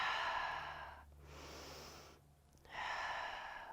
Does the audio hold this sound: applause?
no